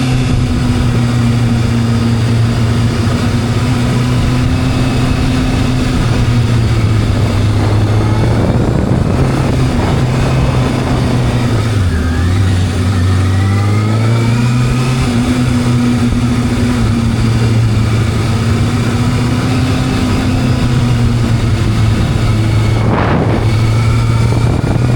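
A motorbike engine runs at a riding arena as a loud, continuous droning hum. Its pitch dips and then climbs again partway through, with no talk over it.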